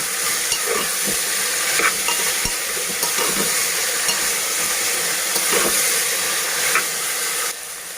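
Potatoes and French beans fry in a pan with a constant close sizzle, broken by repeated light stirring scrapes; the sizzle drops away sharply near the end, and no one speaks.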